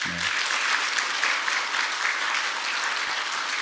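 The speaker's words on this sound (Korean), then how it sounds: "우리 박수 한번 쳐드릴까요?" Applause from a seated audience at a year-end talk concert, a dense and even wash of clapping heard alone, sustained at a steady level from start to finish.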